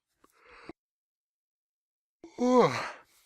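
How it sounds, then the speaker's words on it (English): A person yawns: a faint breathy intake is followed after a pause by a louder, drawn-out, voiced yawn with a falling moan, heard close in a quiet room. "Why am I suddenly yawning?"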